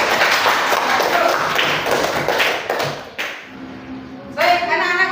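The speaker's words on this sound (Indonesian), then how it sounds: "Kita tepuk tangan." A class of schoolchildren claps their hands together in a classroom, a burst of close, busy clapping that fades to scattered taps, with voices talking over it.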